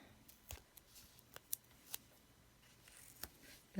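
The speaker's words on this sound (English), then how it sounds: "that'll clean your scissors right up if you have never tried that before" Scissors being worked while cleaned with adhesive-remover goo, giving a few sharp, separate snips and clicks spaced irregularly over quiet background, close and fairly soft.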